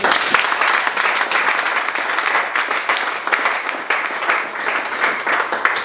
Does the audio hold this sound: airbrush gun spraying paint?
no